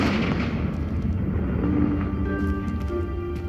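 In Hogwarts Legacy, a Confringo fire spell blasts with a heavy booming rumble that fades into a low echoing decay, followed by faint sustained magical ringing tones.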